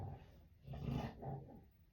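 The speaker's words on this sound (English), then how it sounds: "Y'all hear my dog?" A dog growls low and steadily indoors, a quiet rumbling that swells in the middle and fades, with no talking over it.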